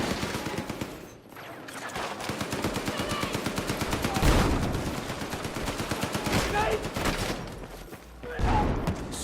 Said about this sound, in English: If I shoot.